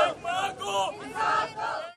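A crowd of protesters chants slogans against police on a city road in Lahore, with rhythmic shouted phrases rising and falling, moderately loud and slightly distant.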